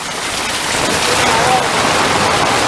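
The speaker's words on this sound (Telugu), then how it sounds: "ఇప్పటికే హైదరాబాద్లో భారీ వర్షం పడుతోంది" Heavy rain pours down in Hyderabad during a red-alert downpour, a dense, steady hiss of water that holds evenly loud from start to finish.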